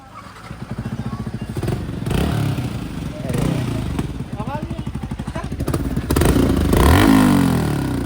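A Yamaha MT-15 motorcycle with its exhaust removed idles with a loud, raw clatter, then revs in repeated sharp bursts close by, while people talk over it.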